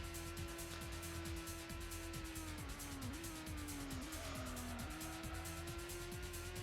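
A car in the Gran Turismo video game flicked into a drift, its engine droning steadily as the tires squeal in repeated sliding bursts, with the pitch dipping and recovering.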